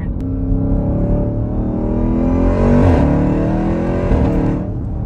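A supercharged Jeep Trackhawk engine fitted with a new intake revs hard and close, with a steady whine climbing in pitch through two quick rises and falls.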